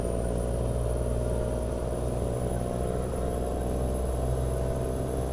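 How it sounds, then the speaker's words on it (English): Heavy truck engine braking in American Truck Simulator, a steady, loud low rumble with a rapid stuttering pulse that holds unbroken throughout, alone with no talking. "I do love the sound of the Jake brake in this truck."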